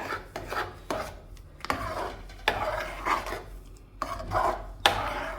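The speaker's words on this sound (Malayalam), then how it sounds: "നല്ല പോലെ ഇളക്കിയിട്ട് ഒന്ന് വറ്റിച്ചെടുക്കുക" Wheat payasam with coconut milk being stirred in a pan, a spoon scraping and rubbing against the metal in repeated rasping strokes, close and fairly quiet, with no talk.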